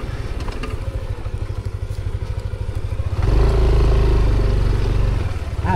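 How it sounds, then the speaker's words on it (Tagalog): Motorcycle riding over a rough, bumpy trail, its engine loud and close with clattering jolts, then revving harder and louder for a couple of seconds before settling back. "Maganda mag-break-in ng motor dito."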